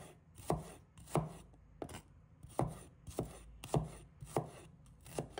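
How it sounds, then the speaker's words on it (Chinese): A knife chops shallots into slices on a cutting board, close, with eight or nine sharp, evenly spaced chops in a steady rhythm and no talking. "几个红葱头，把它切成片。"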